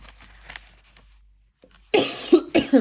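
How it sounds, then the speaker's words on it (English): Quiet rustling gives way to a burst of loud, close coughing, several harsh coughs in quick succession. "I decided to have a coughing fit."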